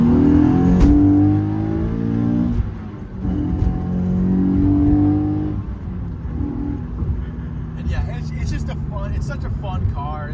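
A Nissan 370Z floored in second gear, engine note climbing steadily toward 4,000–5,000 rpm from inside the cabin, loud and continuous, with a brief shift near the end.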